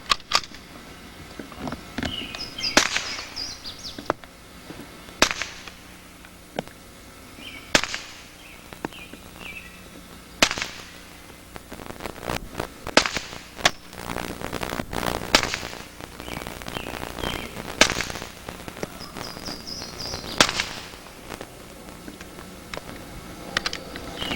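Rapid gunfire in an exhibition shooting display, loud sharp cracks fired in quick bursts and clusters with brief pauses between strings.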